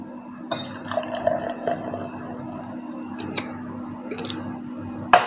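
Sprite poured into grenadine syrup for a tricolour mocktail, a close fizzing trickle and liquid dripping with small clinks, over a steady background hum.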